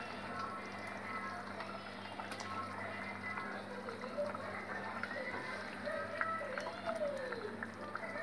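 Fish simmering in a masala curry with potatoes, a steady, soft bubbling over a constant low hum, close and continuous with no voices.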